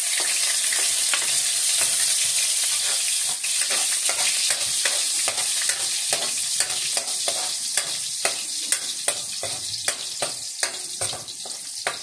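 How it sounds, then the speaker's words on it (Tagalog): Garlic sautéing in hot oil for a mung bean and glass noodle dish: a steady loud sizzle with repeated sharp scraping clicks of a spatula stirring the pan, no talk. "ngayon po ay igisa na po natin ang ating bawang, sibuyas at kamatis"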